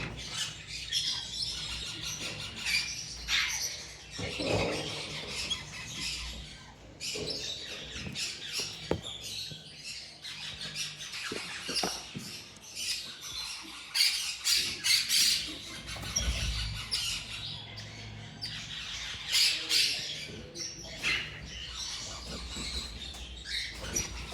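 Black-eyed lovebird pair in a pet shop: a busy run of sharp, high squawks and chirps, with scratchy patter and rustling, close and fairly quiet, with no talking.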